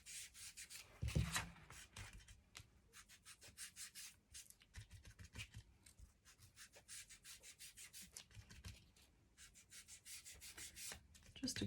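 Paint dabbed onto a journal page with a finger sponge dauber makes quiet, rapid, repeated soft rubbing and patting strokes, close by and unbroken by speech.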